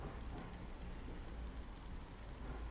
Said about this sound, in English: I have this like thunder kind of rain sound